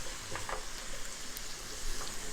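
Onions and minced garlic fry in a pan with a faint, even sizzling hiss and a few light crackles scattered throughout.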